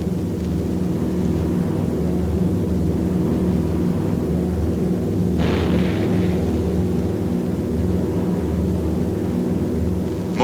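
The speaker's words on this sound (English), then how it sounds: "the enemy knows the path of your approach and walls that path with a flak barrage, but you fly right through it" Flak barrage around a World War II B-17 Flying Fortress bomber: a constant heavy engine drone, broken midway by one sharp, close explosion burst that fades back into the roar.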